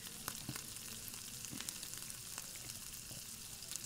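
Spiced vegetables fry quietly in a pan under a faint hiss, with soft scattered scrapes and knocks as they are stirred and turned over.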